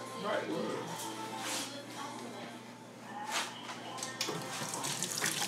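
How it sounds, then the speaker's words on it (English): A kitchen faucet runs steadily into a sink for dishwashing, a continuous watery hiss under faint clatter. People talk nearby throughout. "I got some dishes to wash now. I need to run my water."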